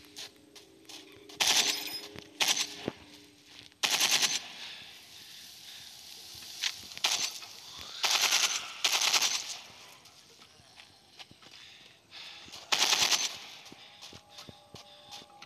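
Gunfire in the zombie shooter Into The Dead 2, heard as repeated sharp automatic bursts spread across the stretch with quieter gaps between them, loud and close against low background game sound.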